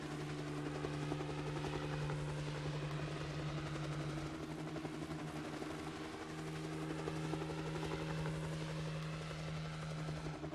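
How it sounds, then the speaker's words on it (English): Helicopter in the Akazu no Ma game gives a steady, droning engine and rotor hum with a constant low buzz, loud and unbroken throughout, with no talking. "One's flying the helicopter."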